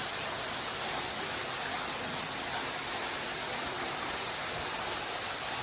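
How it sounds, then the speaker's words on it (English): A waterfall spills inside a domed chamber of a cave, filling the space with a steady, loud, broadband rush of water that holds evenly throughout with no talking. "Got an even better waterfall in it."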